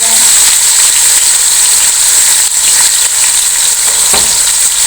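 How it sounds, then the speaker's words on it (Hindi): Chicken fries with onions for a chana pulao, a loud, close, unbroken sizzling hiss filling the whole stretch with only slight stirring movement. "चिकन जो है वो हमने इसमें ऐड करना है, ताकि थोड़ा सा ये प्याज के साथ जो है वो बिस्मिल्लाह फ्राई हो जाए।"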